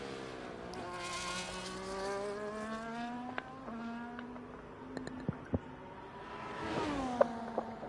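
Race cars in a racing video game at the Bahrain circuit, engines whining and shifting pitch as several cars run out of the pits, fairly faint with occasional sharp clicks.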